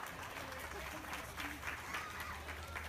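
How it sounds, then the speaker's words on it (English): Applause from a crowd at a youth swine market show, with a steady dense patter of clapping continuing through the clip over background noise and a low hum. "let's give these kids a nice round of applause as we head them back"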